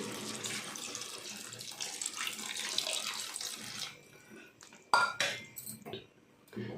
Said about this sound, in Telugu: కొంచెం వాటర్ వేసుకున్నాం.